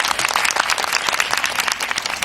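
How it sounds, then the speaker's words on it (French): An audience applauds a rapper with dense, continuous clapping, loud and close, filling the short stretch without any voices. "on applaudit pour lui d'abord"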